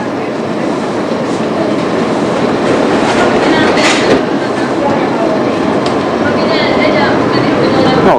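A 1970s–80s New York subway train runs on its tracks near the Williamsburg Bridge, a loud continuous rumble with rhythmic clickety-clack of wheels over rail joints and brief metallic squeals, heard from inside the car.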